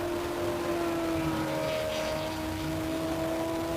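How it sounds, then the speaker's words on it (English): An old Ferrari V8 classic race car runs at the 2023 Simola Hill Climb, its engine holding a sustained, steady droning note at a moderate distance throughout. "let's just enjoy the symphony of a Ferrari V8"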